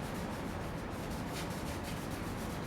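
A scratch repair product is rubbed steadily over car paint, giving a continuous close, dense scrubbing hiss with no clear breaks and no voices.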